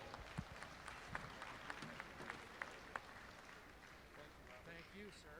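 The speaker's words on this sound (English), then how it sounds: "let's give Bob and his family a big round of applause for all he does for World Dairy Expo" Audience applause ringside at a dairy cattle show, a Junior Holstein class at World Dairy Expo, fairly faint and diffuse with a few sharper nearby claps standing out and fading toward the end.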